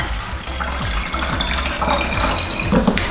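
Water poured into a container while refreshing water for water kefir, a continuous close splashing and trickling stream with small gurgles and clinks.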